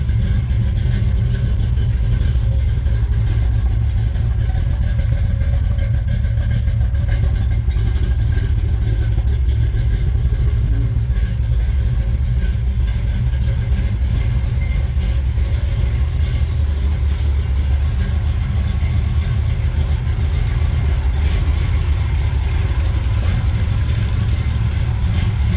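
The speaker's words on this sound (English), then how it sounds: "Exhaust sounds really good." A junkyard small-block 350 V8 engine in a car idles with a deep, steady exhaust rumble throughout, close by and continuous, with slight rises in intensity.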